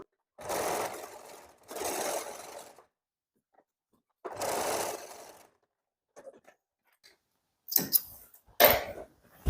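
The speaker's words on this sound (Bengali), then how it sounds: "এই যে দেখুন সেলাই হয়ে গেল" A sewing machine stitches the side seam of a black blazer. It makes three loud rattling bursts of a few seconds each, separated by pauses, then a few short clicks and brief whirs near the end.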